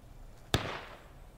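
A single distant musket shot cracks once in a War of Rights mock skirmish battle, a sharp brief report trailing off into a faint echo over quiet background noise.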